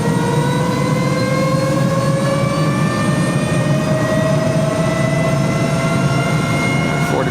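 Helicopter engine heard from inside the cabin over Prince William Sound, Alaska: a loud, constant turbine whine with layered tones over a heavy, even rotor drone, unbroken throughout.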